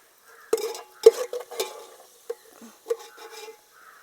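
Fried onions scooped from a frying pan into a vessel for Kozhikodan beef dum biryani, with a series of sharp metal scrapes and clinks of a ladle against the pan over a faint sizzle, close and uneven.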